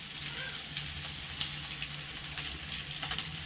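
Fish frying in oil in a pan, a low, steady sizzle with faint crackles throughout, quiet and even.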